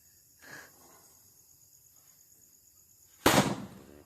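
A single sharp firecracker bang goes off during Diwali in a village after a faint pop and a quiet stretch, its crackle trailing away briefly.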